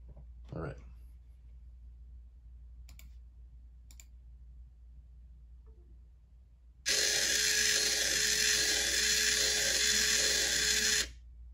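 A 35 kg servo motor spins during a speed test, a loud steady whine with ticking pulses lasting about four seconds, preceded by a few faint clicks and a short voice.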